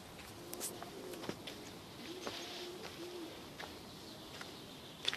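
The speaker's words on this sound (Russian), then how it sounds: "Птица лесная, голубица на пне сидит." A forest dove perched on a stump gives soft, faint cooing calls in quiet woodland near a house, with occasional rustles and small ticks around it.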